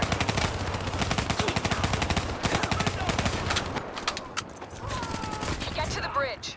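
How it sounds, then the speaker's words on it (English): Rapid sustained automatic gunfire in Call of Duty Black Ops 3, a dense stream of rounds laying down cover fire for several seconds before easing into scattered shots and whooshing effects. "Give me some cover fire."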